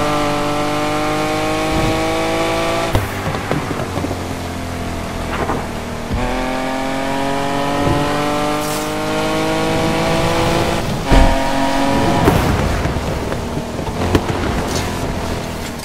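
Cars in Need for Speed Unbound, with a loud, steady engine and exhaust roar that rises and falls through gear changes, accompanied by occasional sharp pops and whooshes over continuous road noise, with no talk.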